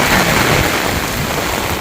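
Rain pours down steadily over a village, a dense, loud, even hiss of drops on surfaces that cuts off abruptly at the end.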